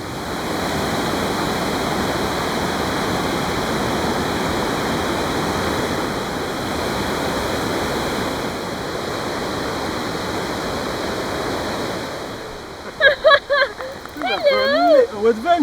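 River water flowing through a Norwegian forest makes a steady, loud rushing wash that continues for most of the span, then fades as a voice starts speaking near the end.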